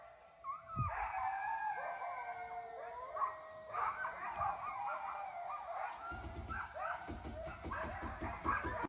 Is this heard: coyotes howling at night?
yes